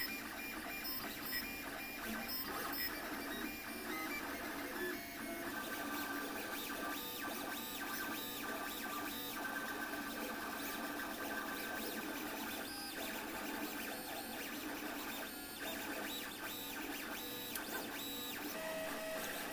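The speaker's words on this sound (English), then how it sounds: "Let's print it up." A 3D printer laying down a Star Wars phone stand, its stepper motors whirring and chirping in a busy, continuous pattern of shifting tones, moderately quiet and alone.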